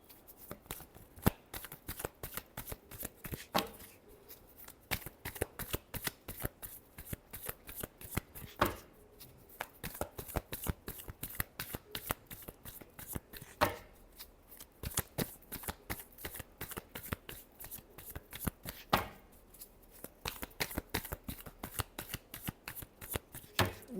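A deck of tarot cards is shuffled over and over in a close, steady stream of crisp riffles and soft slaps with short pauses between passes. No voices are heard.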